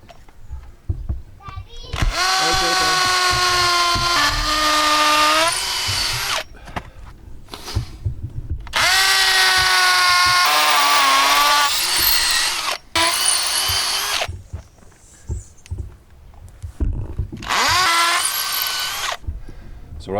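A power drill bores screw holes for gate hinges during a gate repair, whining loudly in several long bursts with short pauses between, while people talk around it.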